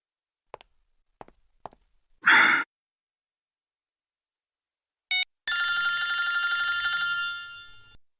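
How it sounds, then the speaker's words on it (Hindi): A telephone rings with a bright electronic bell tone, one short burst and then a longer continuous ring, after a sigh and a few quiet footsteps in an otherwise silent room. "तारिका जी का फोन।"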